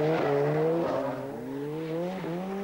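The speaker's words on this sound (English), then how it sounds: "Admire first of all the precise style of the reigning Open champion Jimmy McRae on the opening spectator stage" Rally car on the 1988 Ulster Rally opening spectator stage at Nutt's Corner, engine loud and close with rising, shifting revs and gear changes throughout.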